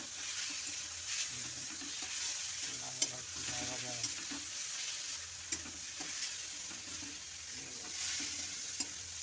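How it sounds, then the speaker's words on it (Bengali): Bottle gourd (lau) fries in a pan with sugar added, giving a soft, even sizzle over the whole stretch with a few faint stirring clicks, fairly quiet and without talk. "লাউ ভাজা হচ্ছে আমাদের"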